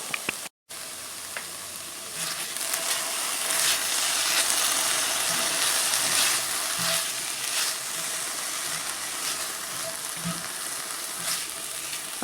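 Garlic sizzling in a pot while cooking zuppa toscana, a steady bright hiss of frying that runs for several seconds with faint stirring clinks, close and continuous, without talk.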